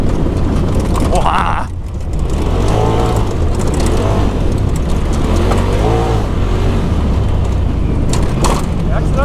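A Polaris RZR buggy in rear-wheel drive tears around a dirt cross track, its engine roaring and revving up and down through a drift, loud and constant, while a person talks over it.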